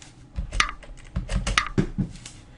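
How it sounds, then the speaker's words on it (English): A click sound sample played back in Ableton Live 9 gives a series of short, dry, irregular clicks and taps, close and fairly loud, like keyboard typing. "So got this kind of click sound"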